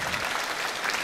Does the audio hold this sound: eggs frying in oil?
no